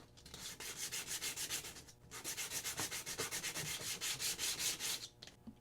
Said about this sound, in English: I'm going to be able to get away with just some light sanding